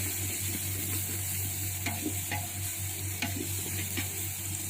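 Chili powder sautéing in a pan for chicken biryani: a steady low sizzle with soft scraping stirs and a few sharper clinks of the utensil against the pan, no talking.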